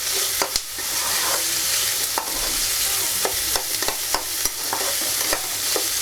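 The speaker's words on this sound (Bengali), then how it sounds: "একটু ফ্লেমটা বাড়িয়ে দিচ্ছি যাতে ভাজাটা তাড়াতাড়ি হয়।" Flattened rice and potato fry in a pan, giving a steady loud sizzle broken by frequent scraping clicks from stirring.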